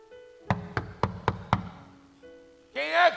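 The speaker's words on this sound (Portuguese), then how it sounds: "Quem é que está aí batendo na porta?" Five firm, evenly spaced knocks on a wooden house door sound up close, followed by a short silence and then a voice speaking briefly at the end.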